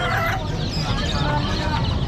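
Chickens cluck and crow steadily amid the busy background hubbub of a crowded pet market, with no single call standing out.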